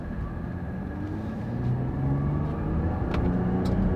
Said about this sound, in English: We're going to put it in manual shifting mode and watch what happens.